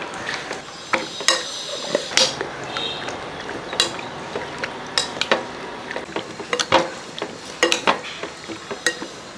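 Chicken with yogurt is stirred in a pot, a spoon scraping and knocking against the metal in irregular, sharp clinks over a soft background, close and fairly loud.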